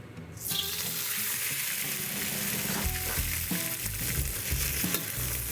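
Shrimp fry over high heat in oil in a pan, a loud continuous sizzle with intermittent scraping and clattering as the shrimp are stirred and spread.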